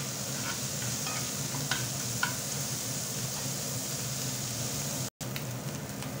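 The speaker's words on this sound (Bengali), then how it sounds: "মাছগুলো আমি ভালো করে ভেজে নেব" Raw prawns frying in white oil, a constant dense crackling sizzle close up with faint pops, cut by a momentary dropout near the end.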